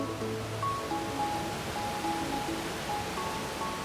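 Steady broadband rush of a waterfall in Meghalaya, a continuous wash of falling water heard alone without voices, with faint tonal hints drifting through the roar.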